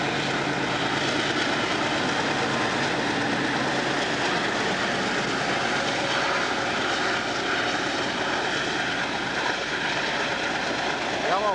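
A CSX freight train locomotive rumbles past with a loud, continuous roar of engine and rolling wagons, filling the whole stretch without a break.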